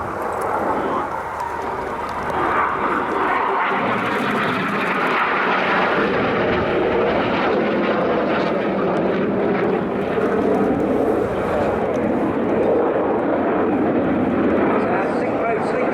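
Red Arrows jets at the RIAT 2012 air show flying the Cyclone formation, a sustained loud roaring engine rumble building and rolling past, with an announcer's voice commentating over it throughout.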